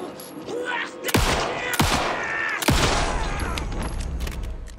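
Three sharp gunshots ring out in Alan Wake 2 gameplay, each a loud crack with a booming tail, spaced about a second apart over a background of game ambience.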